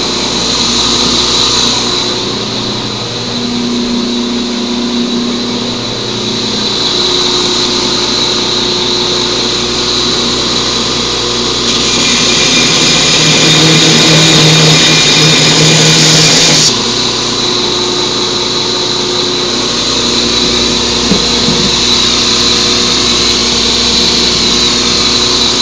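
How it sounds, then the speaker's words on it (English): A knifemaker's grinder shapes handle pins, a steady loud motor whine and hum that rises into a harsher, brighter grinding for several seconds in the middle before easing back. "I'm just showing you guys what happens whenever you put them on the grinder for a second."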